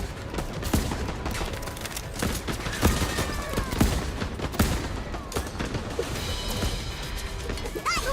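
Shotgun blasts and other weapon fire in the game Worms Rumble, a dense run of sharp bursts and crashes over several seconds, with a few thin electronic whines near the end.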